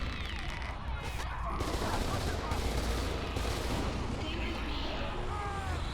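Sustained gunfire and battle noise from the video game F.E.A.R. 2 fills the clip continuously, a dense loud rumble of shots and effects with a voice speaking over it.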